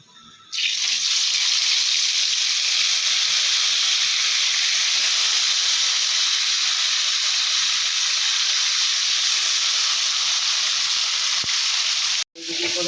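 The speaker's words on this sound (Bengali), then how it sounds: "আর কড়াইতে তেল ছিল এখন এই মাছগুলো একটা একটা করে ছেড়ে দেবো" Pieces of bhola fish sizzle loudly and steadily in hot oil in a wok, a dense, unbroken hiss that starts abruptly and briefly cuts out near the end.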